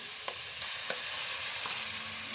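Onion paste fries in a pan for chicken tikka karahi, a steady close hiss of sizzling with a few light stirring scrapes and no voices.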